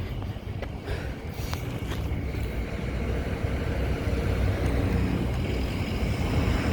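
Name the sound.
strong wind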